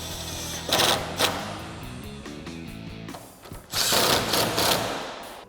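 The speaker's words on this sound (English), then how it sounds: "I'm going to take my electric gun and my 10mm," Electric impact gun driving 10mm bolts on a 2005-2009 Mustang headlight: two whirring, rattling bursts of the tool, close and fairly loud, separated by quieter mechanical clicking.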